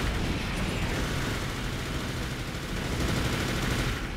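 Dual machine guns firing in the video game Armored Core For Answer, a dense, continuous, loud roar of rapid gunfire that holds steady with no pauses and no talk.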